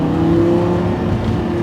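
A Porsche 718 Cayman GT4 sports car engine set to its Corsa mode gives a steady, loud, close drone with a strong low tone for under two seconds, with no voices.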